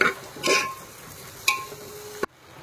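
Ridge gourd pieces being stir-fried with turmeric and salt in a pan, giving a short burst of sizzling and scraping with a few distinct knocks of a spatula, close by, ending abruptly.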